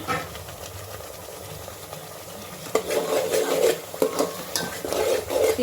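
Spices for mutton paya stirred and fried in oil in a pot, with steady scraping and clinking of a spoon against the pan over a low sizzle, growing busier and louder in the second half.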